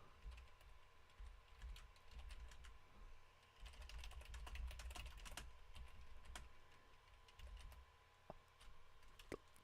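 Someone types steadily on a cheap $10 Logitech computer keyboard, giving a run of close, quiet plastic key clicks in irregular bursts over low background hum.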